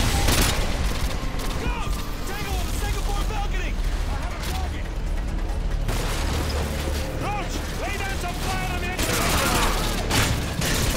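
Rapid gunfire from the PC video game Call of Duty: Modern Warfare 2, with dense overlapping bursts and booms in a continuous loud battle, a faint voice sometimes under the shooting.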